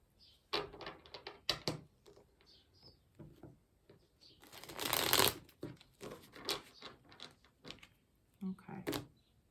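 Slippery tarot cards are shuffled and riffled close by, with repeated soft flicks, a loud dense shuffle burst in the middle and a person speaking quietly at times, plus faint bird chirps in the background.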